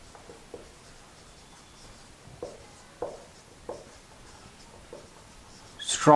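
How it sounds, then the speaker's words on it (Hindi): Pen writing by hand during a chemistry lesson on electrophilic addition, a series of soft, close scratchy strokes spaced out over several seconds, with a brief louder rustle at the end. "एक चीज हम यहां पे कंक्लूजन में लिखते हैं"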